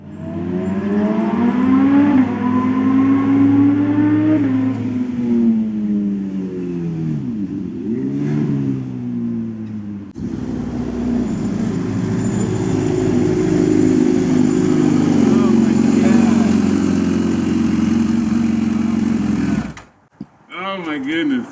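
A Kawasaki Ninja H2SX motorcycle engine revs and pulls through rising and falling gear changes, loud and close with wind roar, then cuts out briefly near the end.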